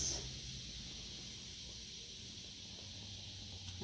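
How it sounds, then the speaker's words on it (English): A steady, continuous hiss of steam escaping from the pressure valve of a pressure cooker while French onion soup cooks, fairly faint and unbroken for several seconds. "Can take up to a couple of minutes for all that steam to release"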